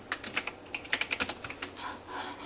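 Rapid keystrokes on a computer keyboard as a command is typed into a command prompt, a quick run of close, crisp clicks lasting a couple of seconds with no talking.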